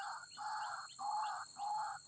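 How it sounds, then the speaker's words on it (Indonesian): A white-breasted waterhen calls beside a swampy, mossy canal, giving three loud, evenly spaced nasal hoots in a steady rhythm, close and clear against quiet surroundings. "kita didatangi burung wak-wak"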